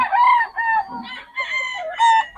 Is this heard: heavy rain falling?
no